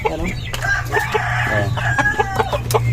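Hens in a coop clucking repeatedly at close range, busy overlapping calls with short cackles over a low background hum.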